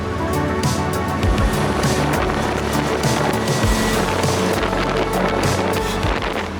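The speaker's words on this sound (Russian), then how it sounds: "здесь так мотор шумит" A loud, steady engine roar with rushing wind and rattling noise, continuous and close, like a vehicle moving at high speed.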